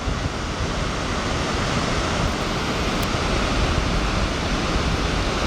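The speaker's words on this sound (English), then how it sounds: "The upper Tahquamenon Falls is as I said at the beginning of the video, the third largest waterfall east of the Mississippi River in the United States" Upper Tahquamenon Falls, a large river waterfall, roars as a constant broadband rush of falling water, loud and unbroken throughout with no voices.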